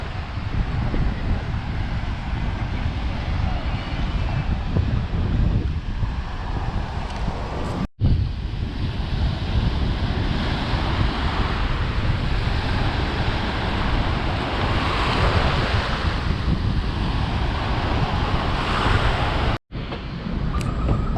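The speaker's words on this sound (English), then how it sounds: "So yeah, this is the beach. Welcome to Cancun." Broad, steady surf washing onto a beach in Cancun, Mexico, mixed with gusty wind buffeting the microphone, continuous and fairly loud for the whole stretch, with two brief dropouts.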